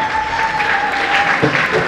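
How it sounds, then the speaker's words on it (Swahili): Applause for a school leader at a seminary graduation ceremony in Moshi, a dense, steady crowd clapping with a voice carrying over it. "makofi kwa ajili yake tafadhali"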